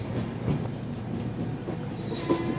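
Hubballi-Hyderabad Express rolling slowly through a left curve onto the Hyderabad line, heard from inside the coach: steady rumbling wheels and carriage noise with faint rail squeals and clicks.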